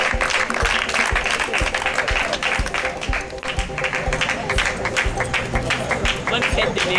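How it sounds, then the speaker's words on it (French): Applause from the audience at a Mother's Day celebration carries on steadily over background music, a continuous patter of many hands at moderate loudness throughout. "sur vos applaudissements"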